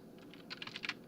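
Quick bursts of keystrokes on a computer keyboard as a file name is typed, a short run of light, close clicks at low volume.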